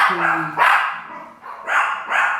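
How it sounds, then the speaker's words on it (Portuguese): Several dogs bark in loud, repeated bursts close by, some yelps rising over others with short gaps between, all in a home setting. "um minuto de silêncio para minha cachorrada parar de latir"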